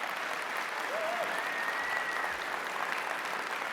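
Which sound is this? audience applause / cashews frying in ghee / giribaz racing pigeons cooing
audience applause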